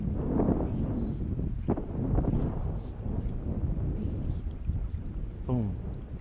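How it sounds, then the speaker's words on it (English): Wind blowing beside a creek while fly fishing on Penns Creek in April, a steady low rumbling buffet against the microphone that persists through the whole stretch, with faint water and a brief tonal squeak near the end. "wind just killing me"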